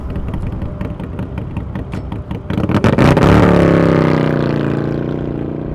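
An Indian bagger motorcycle built with S&S Cycle, its engine idling with a rapid pulsing beat, then revving up hard into a loud sustained roar on the Bonneville Salt Flats, close by.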